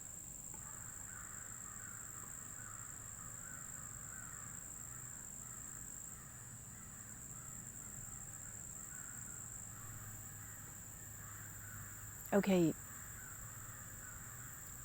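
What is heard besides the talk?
crows cawing outdoors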